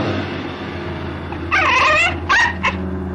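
A dog from an episode of the TV series Land of the Giants gives a few short barks and yips, clustered in the second half over a steady low background hum.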